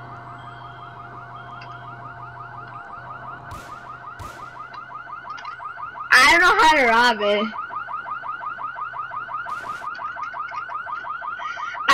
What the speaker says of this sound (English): Oh, the alarm's going off.